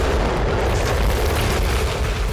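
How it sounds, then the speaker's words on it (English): Deep, continuous roar of a 500-kilogram bomb charge detonating close to an air-raid shelter, a loud sustained rumble with a heavy low-end boom filling the whole stretch. "a 500-kilogram charge detonated just 22 meters away"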